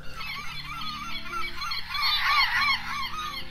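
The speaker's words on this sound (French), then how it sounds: "il y a même une mouette qui arrive" A gull calling near a cluttered outdoor spot, loud repeated honking squawks that swell and grow harsher toward the middle, over a steady low background hum, with no talking.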